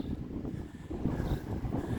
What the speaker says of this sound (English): Okay, that wind is really picking up.